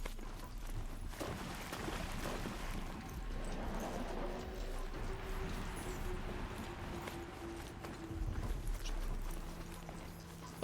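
Horse hooves clip-clop at a steady walking pace in Horizon Zero Dawn, fairly soft under a dense bed of game ambience and music, with no clear talk.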